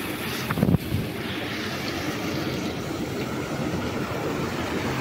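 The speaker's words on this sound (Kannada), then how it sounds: "ಇದು ನೋಡಿ, ನೀರು ಹರಿತಾ ಇದೆ ಇಲ್ಲಿ." Water pours steadily over a small check dam near Gundiadka Falls, a broad, even rushing close by with wind buffeting the microphone and a brief knock near the start.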